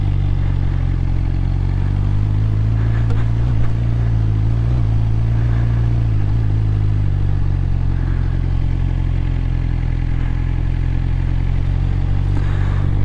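A sport bike motorcycle engine running at a low steady idle-like rumble, close and constant, with slight wavering as the rider practices slow full lock turns.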